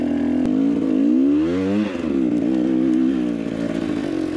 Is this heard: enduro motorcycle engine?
yes